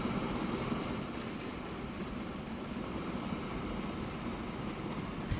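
A freight train arriving at a station in the video game Transport Fever gives a steady, low rumbling roll that stays even and moderately faint throughout, with no talking.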